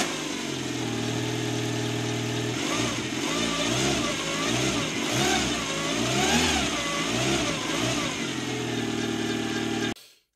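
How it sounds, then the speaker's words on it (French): A Citroën Xsara four-cylinder engine, freshly fitted with a new timing belt, runs smoothly and loud up close, its note rising and falling through several revs for about ten seconds before cutting off abruptly. "le moteur tourne nickel chrome, tout va bien. Sur ces 4 cylindres"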